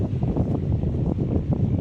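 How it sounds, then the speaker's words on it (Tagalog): Strong wind buffets the microphone in a constant low roar, gusting continuously without letup. "lakas ng hangin dito. Ang lakas ng hangin."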